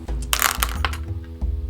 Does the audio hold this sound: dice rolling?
yes